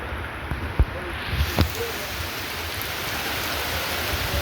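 Very strong typhoon wind and rain roar as a dense, steady wash of noise, broken by a couple of brief knocks or thuds near the start.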